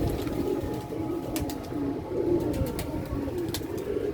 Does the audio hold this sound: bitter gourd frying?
no